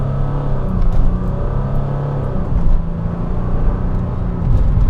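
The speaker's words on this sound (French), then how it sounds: "si on écrase l'accélérateur, on se retrouve en partant de zéro, on est quasiment à 100 en quelques secondes" A 2005 Mercedes C320 CDI diesel with a 7G-Tronic automatic accelerates hard from a standstill, its engine drone rising steadily and loud from inside the cabin, with a smooth rush of road noise and no talking.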